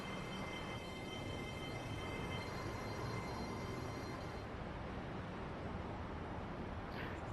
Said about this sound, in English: another LNER Azuma is coming in as well